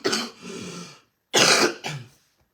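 Three harsh coughs from a person with a sore, weak voice: a long rough first cough, a pause, then two quick loud coughs close together, near and alone.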